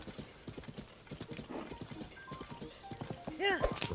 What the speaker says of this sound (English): So we're going to take this horse nice and slow.